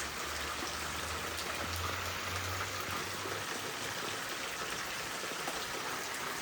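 Early monsoon rain in the Konkan, an even, unbroken hiss of falling drops with a faint low rumble underneath, no voices.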